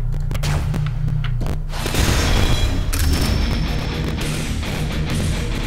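New gun in the Valfaris video game firing a continuous stream of heavy blasts, with rapid booming thuds, crackling explosions and dense rumbling impacts filling the action, loud and close.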